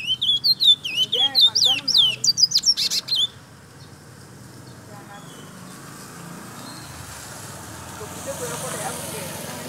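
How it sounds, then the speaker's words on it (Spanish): A bird, a Congo parrot, sings in a quick run of high chirps and whistles for about three seconds, then stops, leaving faint outdoor background noise and distant traffic. "un pájaro ahí donde Ryan"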